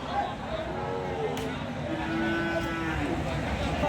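A Deshi and Sahiwal cross bull, about 15–16 months old and raised for Qurbani, gives a long, drawn-out moo close by, with faint background voices and ambient noise around it.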